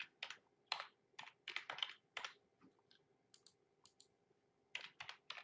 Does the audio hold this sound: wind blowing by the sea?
no